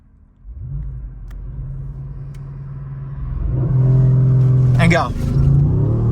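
A 2016 Audi S7 launching on launch control, building to 5,000 RPM: a close, loud engine holds a steady low drone, then swells and revs higher, with a sharp pitch swing near the end as it pulls away; a voice calls out briefly at the start.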